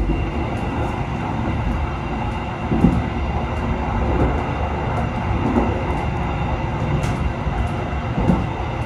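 Inside the moving Jayabaya executive-class passenger train from Malang to Jakarta Pasar Senen: a constant loud rumble of wheels on track, with occasional clunks and faint metallic squeaks over the steady drone.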